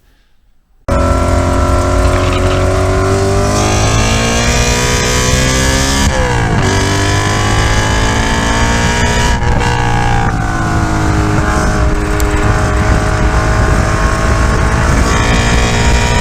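An Audi RS4 engine revs hard under throttle, loud and continuous after a brief quiet start, its pitch rising and falling through gear changes with no talking over it.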